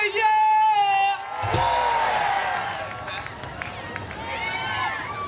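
A crowd at an outdoor classic rock concert in a park shouts back loudly, a broad roar of many voices following a sustained sung or called note, then trailing into a fainter, scattered cheering.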